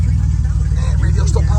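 Engine of a DeLorean idling after a restart following months unused, a loud close low rumbling chug with a steady pulse, and a voice talking over it.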